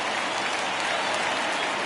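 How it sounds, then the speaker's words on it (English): Baseball stadium crowd clapping and cheering on a full count, a dense, steady roar of applause throughout. "Crowd gets up for the 3-2."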